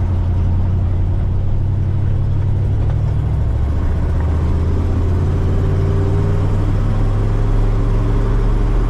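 A 1960 Chevrolet Impala with a 283 engine cruises along, a steady low engine drone and road rumble heard from inside the cabin, even and unbroken.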